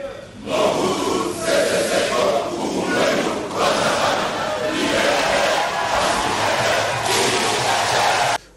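A large crowd in a hall roars, applauds and chants together, loud and continuous, with voices rising and falling in waves.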